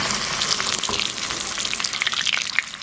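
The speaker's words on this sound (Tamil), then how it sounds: "இந்த மிளகாயும் அப்பளத்தையும் பொரிப்போம்." Chillies and papads crackle and sizzle loudly in hot oil, a dense steady frying hiss with quick popping bursts throughout.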